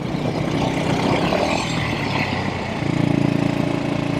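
A 1964 Velocette Venom Veeline Clubman motorcycle engine runs steadily while riding, its single-cylinder thump shifting in pitch partway through as the rider changes gears, loud and close with no talking.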